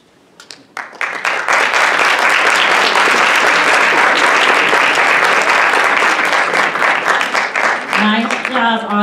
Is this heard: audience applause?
yes